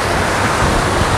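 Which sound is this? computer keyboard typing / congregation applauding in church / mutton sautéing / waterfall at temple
waterfall at temple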